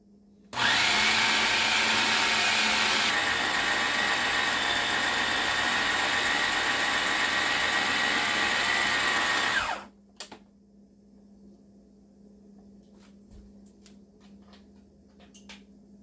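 A food processor grinds spiced meat for homemade hot dogs, a loud steady motor whir running continuously for about nine seconds before cutting off, followed by faint clicks and quiet room noise.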